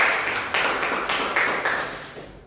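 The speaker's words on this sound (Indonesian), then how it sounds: "Boleh kasih tepuk tangan untuk Anggun." A few students clapping in a classroom, a sparse, brief patter of claps that fades away within a couple of seconds.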